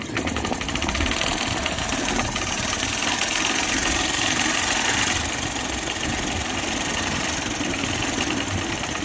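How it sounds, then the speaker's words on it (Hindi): A faulty car engine idles with a harsh, fast rattling clatter, a loud continuous mechanical chatter heard up close without pause, no voices over it. "एक कड़कड़ की आवाज़ आ रही होगी आपको।"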